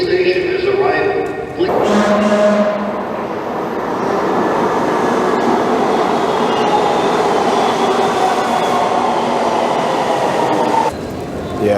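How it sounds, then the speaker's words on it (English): An LA Metro subway train pulls into an underground station with a loud, steady rumble and hiss of wheels on rail that fills the space for several seconds, then cuts off as the doors seal. "A train to Union Station has arrived."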